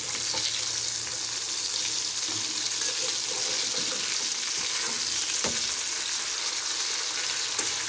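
A steady, close sizzle of pabda fish pieces frying lightly in oil in a pan, with occasional soft clicks and stirring scrapes over the constant hiss and no talking.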